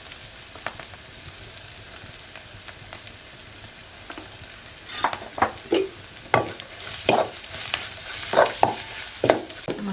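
Spices and turmeric, red chilli and salt for a Konkani fish curry are sautéed in a pan, with a quiet sizzle underneath and a run of sharp spoon scrapes and clinks against the pan in the second half.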